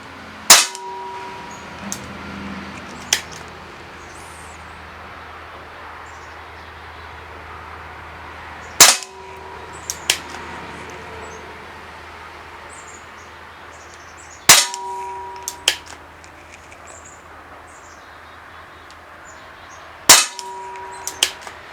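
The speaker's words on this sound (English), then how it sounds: "We're going to be shooting this gun in single action mode." Umarex Smith & Wesson M&P 45 CO2 airgun fired in single action, four sharp cracks spaced several seconds apart, each followed by faint clicks and clanks of cocking, in a quiet room.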